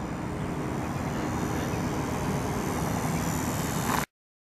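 A Hobbyzone SuperCub DSM radio-controlled model airplane flies just after takeoff, its electric motor giving a steady, loud whine mixed with wind noise that runs unbroken for about four seconds and then cuts off abruptly.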